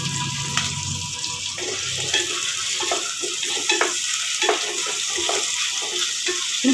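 Chopped onions with two green chillies, added after ginger-garlic paste for a green pea vegetable pulao, roast and sizzle steadily in a pan. Repeated stirring scrapes sound throughout, close and continuous, with no talking.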